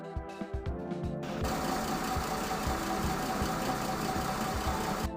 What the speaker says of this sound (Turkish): Eşsiz motor sesiyle tam sağa baskı kuran otobüs